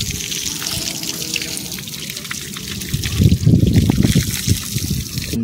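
Water pouring steadily from a tap on a village supply line with strong pressure, a loud continuous rushing splash that swells heavier partway through, with faint voices in the background.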